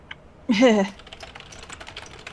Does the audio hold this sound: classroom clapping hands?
no